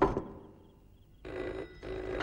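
A telephone bell rings in two loud bursts separated by a pause, near and clear, with no talk over it.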